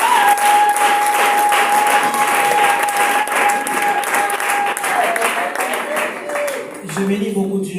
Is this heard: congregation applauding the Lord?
yes